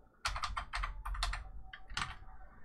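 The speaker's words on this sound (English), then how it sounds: "I'm going to type Klipper" Fingers typing on a computer keyboard, a quick run of crisp close key clicks in short bursts with a brief pause, no talking.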